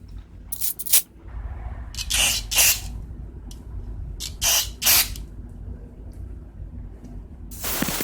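Aerosol carburetor cleaner is sprayed onto the carburetor of a 1995 Artisan Earthquake auger: several short, loud hissing bursts close by, some in quick pairs, over a low background hum.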